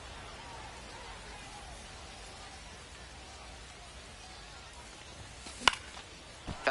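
Steady soft hiss of rain falling over a ballpark in the MLB The Show baseball video game, a continuous wash at low volume, broken near the end by a couple of sharp clicks and knocks.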